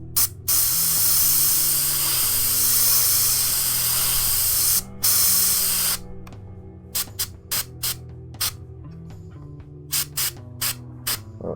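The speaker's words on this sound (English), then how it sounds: "airbrush stroke as well" An airbrush sprays paint onto Fulgrim miniature armour plates, first a loud, steady hiss for several seconds, then a run of short, evenly spaced bursts with brief silences between them.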